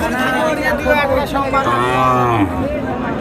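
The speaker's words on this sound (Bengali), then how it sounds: "দেখেন, এইগুলো গরু" Cattle mooing at a cow and calf market in Naogaon, with Gir and Sahiwal breeds on sale; several loud, drawn-out moos rise over steady crowd hubbub.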